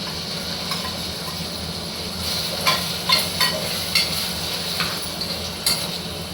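Onions hit hot oil in a pan and crackle in a steady sizzle, with a few sharp clinks and stirring scrapes of a spoon against the pan punctuating the continuous frying hiss.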